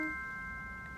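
A short bright electronic chime marks a correct answer on a live studio talk show, a single sustained ringing tone fading over about a second with no voices over it.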